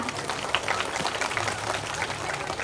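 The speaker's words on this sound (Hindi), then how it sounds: "इस मनमोहक प्रस्तुति के लिए जोरदार तालियां।" Applause from an audience after a devotional song-and-dance stage performance, a dense steady patter of many hands clapping together for a couple of seconds, close and moderately loud.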